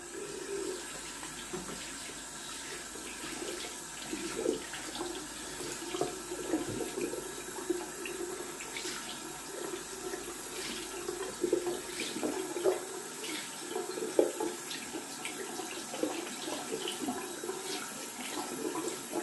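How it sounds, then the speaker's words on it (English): Tap water runs steadily at a sink while a shaving brush is rinsed out after a rough shave, a soft continuous splashing with faint irregular spatters, heard alone without talk. "Gonna rinse out my brush while the aftershave is drying down."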